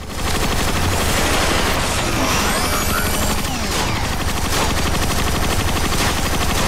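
Sustained rapid automatic gunfire in Transformers: Fall of Cybertron, a continuous loud stream of shots layered with more firing and impacts throughout, with no pause.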